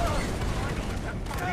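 Far Cry 4 combat with an M79 hand cannon firing on a convoy: dense, loud blasts and explosive rumble fill the whole stretch, with overlapping gunfire and booms that continue without pause.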